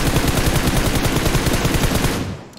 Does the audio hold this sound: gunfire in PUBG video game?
yes